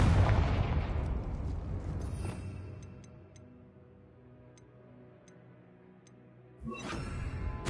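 Confringo fire-blast spell exploding in Hogwarts Legacy, a loud booming burst that rumbles and decays over several seconds with faint ticking debris, then another sharp blast hits near the end.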